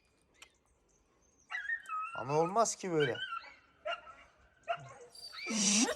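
Dogs, including a dachshund, meeting a cat let out near, high whimpers and sharp yips in short bursts, while someone talks in between.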